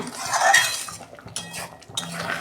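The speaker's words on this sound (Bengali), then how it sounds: "ঢেলে ফেলছি আমি ডাল।" Mung dal cooked with fish head being poured from a metal pot, with clinking and scraping of a ladle against the pot in a few bursts, close and clear, no speech.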